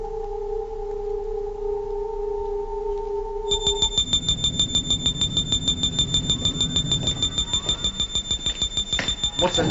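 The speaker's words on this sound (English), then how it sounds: "What's that noise? It's the intruder alarm." An intruder alarm sounds on a spaceship: a steady two-tone hum gives way to a loud, rapidly pulsing high electronic warble that repeats without a break. It comes across as close and insistent.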